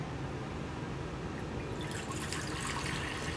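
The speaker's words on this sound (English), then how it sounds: "we are going to pour this into the main pot" Liquid anodizing solution pours into a pot, a close, steady splashing trickle that grows brighter and busier midway as the stream fills the pot, with no talking.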